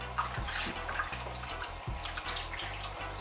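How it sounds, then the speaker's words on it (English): Raw chicken is rinsed under a running kitchen tap, with a steady stream of water splashing and hissing continuously over the meat, close and fairly loud, with low mechanical hum beneath. "Wash it till the water runs clear."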